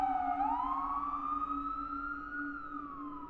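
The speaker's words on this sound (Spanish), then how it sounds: "Las sirenas llegaron." An emergency vehicle siren wails nearby, a single rising and slowly sweeping tone that holds loud and steady, then dips toward the end.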